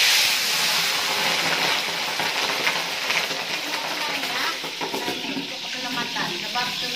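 Chicken feet frying in hot oil for a soy-sauce dish, a dense, continuous sizzle and crackle, close and fairly loud throughout with no pauses.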